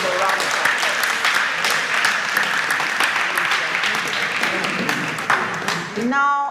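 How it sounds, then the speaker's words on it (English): Sustained crowd applause at a school quiz competition, loud and continuous, with dense clapping throughout and a brief shift to other sound at the very end. "Please give the schools a round of applause."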